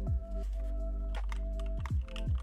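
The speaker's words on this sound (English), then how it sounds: "The normal keys outside of the spacebar sound amazing." Keys clacking on a prototype mechanical keyboard, a handful of crisp separate strokes at an uneven pace, close and fairly loud, with a steady low hum running underneath.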